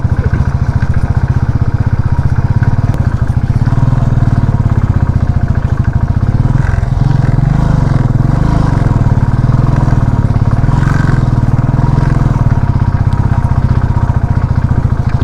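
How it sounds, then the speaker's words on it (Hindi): A motorcycle rides along a mountain road on the way to Sach Pass, its mid-pitched engine droning steadily and close for the whole stretch, with road clatter and wind mixed in and no talk. "बाइक अच्छी चल रही है।"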